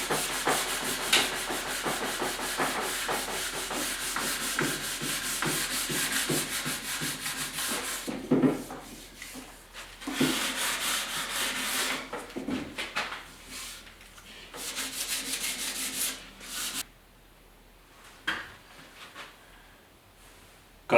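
An old wooden desk is sanded by hand in long, steady rubbing strokes up close, broken by short pauses and a few knocks as the work shifts, with no speech.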